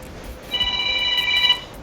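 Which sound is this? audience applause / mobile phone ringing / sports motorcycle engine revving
mobile phone ringing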